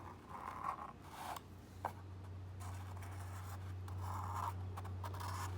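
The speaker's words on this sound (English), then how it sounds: "And then I'm gonna continue with a black marker the spiral" A black marker squeaks and scrapes across paper while drawing a spiral for a snail craft, in several close strokes of varying length over a steady low hum.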